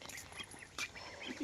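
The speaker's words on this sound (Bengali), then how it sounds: "কত হাঁস দেখ" Several domestic ducks quacking close by in quick, overlapping calls against a quiet outdoor background, near a fish pond.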